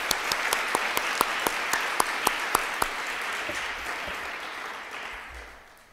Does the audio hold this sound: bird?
no